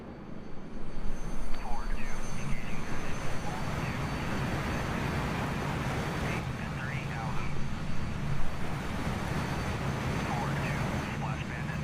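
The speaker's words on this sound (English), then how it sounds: "Careful with your fly past." A jet aircraft makes a fly-past in the DCS World flight simulator, a steady engine roar that swells and fades over several seconds, with a voice talking faintly beneath it.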